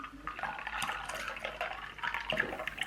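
Milk pours over ice cubes into iced dalgona coffee with a continuous liquid splashing and trickling, close and moderately quiet, rising slightly toward the end.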